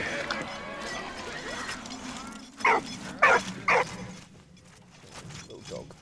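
A small dog in the Valiant Hearts video game gives three sharp yips close up in quick succession. Softer whimpers follow, with a voice and game sounds underneath.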